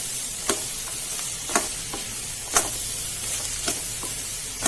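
Capsicum sizzles steadily as it fries in a pan, with a spoon scraping and stirring through it in several sharp, irregular strokes over the constant hiss.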